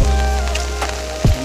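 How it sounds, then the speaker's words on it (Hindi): Rain falling steadily outdoors on a monsoon walk along a hill route toward the Simari river, a constant loud hiss filling the short moment with a couple of brief louder splashes near the end and no talk. "बारिश में चलना तो अलग ही मजा है"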